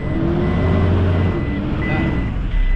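Toyota Innova struggling to reverse, engine revving loudly under strain with a faint reverse warning tone, close and continuous throughout.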